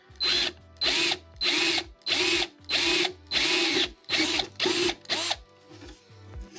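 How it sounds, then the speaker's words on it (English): A power drill fitted with a masonry bit whirs in about eight loud, close bursts of under a second each, separated by short pauses. "these are these drills, and I've been using them for a while now, and they're really good"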